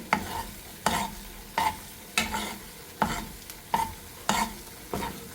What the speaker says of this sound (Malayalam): ഇതൊന്ന് എണ്ണ തെളിയുന്നവരെ നമുക്ക് നന്നായി ഇളക്കി ചേർക്കാം